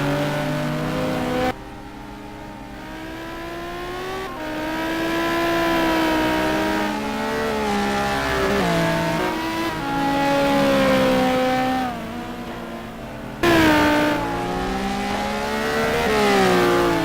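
Simulated race cars lapping Spa in a racing game, engines droning and rising in pitch through gear changes, loud and continuous with no talk over them.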